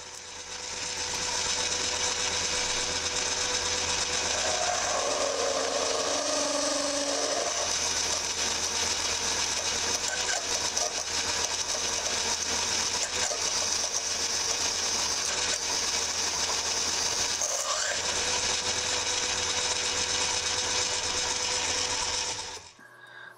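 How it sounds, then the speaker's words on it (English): A 13mm drill bores into metal while making a suspension clamp for a Gordon Microcar, giving a loud, steady machining whir that runs unbroken for over twenty seconds with no talk. "Next up, I'm using a 13mm drill to make way for the final drilling operation."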